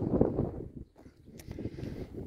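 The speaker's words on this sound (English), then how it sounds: "Sorry about the wind." Gusty wind buffets a microphone outdoors on farmland, a low rumbling roar that swells and dips throughout, with faint rustling and a brief dull knock near the middle.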